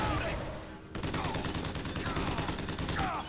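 Sustained rapid gunfire in Bioshock Infinite during a gondola sky battle, a steady machine-gun rattle kicking in after a brief lead-in and continuing loudly to the end.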